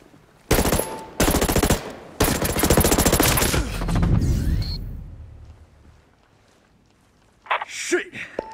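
Gunfire in the video game Ghost Recon Breakpoint, with several loud close bursts of rapid automatic fire followed by a booming decay, then a pause and a sharp gasp.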